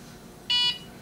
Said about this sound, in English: now that my Cricut had beeped